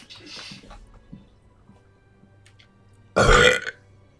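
A single loud, close burp from a player into a microphone during Sniper Elite 5 gameplay, coming late after faint game sounds.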